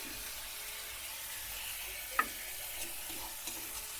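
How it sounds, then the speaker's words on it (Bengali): Onion, garlic, ginger, ground coriander, cumin and a little chili powder frying in a pan for Bengali potol dorma make a quiet, even sizzle, broken once by a sharp tap of a utensil. "পেঁয়াজ রসুন আদা হালকা ভেজে নিয়ে এর মধ্যে আমি দিয়ে দেবো ধনিয়া গুঁড়ো জিরের গুঁড়ো সামান্য লঙ্কার গুঁড়ো"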